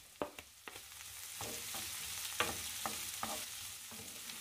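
Onions and capsicum are stirred with softened carrots in a pan. A spatula scrapes and taps in irregular strokes over a low, steady frying hiss, and no voices are heard.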